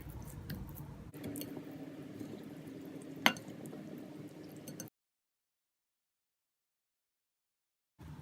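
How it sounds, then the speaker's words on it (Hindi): Chicken wings being mixed by hand with a spice marinade give soft, wet squishing and squelching that runs steadily for about five seconds, with one sharp click, then a sudden cut to silence. "इन सब चीज़ों को मिक्स कर देंगे। हम अच्छा सा मिक्स करेंगे हाथ से ही"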